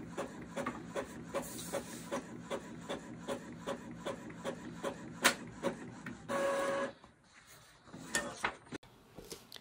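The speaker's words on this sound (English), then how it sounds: "Let's do a couple of test prints and see how they look." An Epson EcoTank ET-2720 inkjet printer runs test prints, its print head carriage shuttling back and forth in a steady rhythm of sharp clicks and whirring passes, close and loud, ending with a brief motor whine and paper feed.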